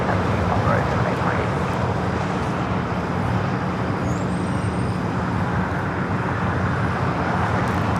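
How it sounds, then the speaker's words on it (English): Cargolux Boeing 747-8 freighter arriving from Anchorage and landing at LAX, heard as a steady, loud broadband roar of jet engines with traffic noise mixed in, continuous throughout with no clear rise or fade. "Cargolux, flight 244 coming in from Anchorage. It's a 747-8 freighter."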